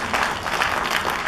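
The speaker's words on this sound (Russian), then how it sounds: "Аплодисменты." Concert audience in Domodedovo applauding, a dense, even wash of many hands clapping together at moderate loudness for the whole short stretch.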